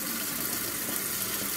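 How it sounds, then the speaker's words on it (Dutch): Tap water streams steadily into a sprouting jar, a constant hissing gush close by with no voices. "Zo, ik vul hem gewoon met water."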